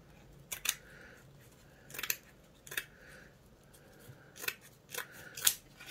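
Scissors snipping fabric cut on the bias for a hat brim edge, about six crisp separate cuts spaced irregularly, close and clear in a quiet room.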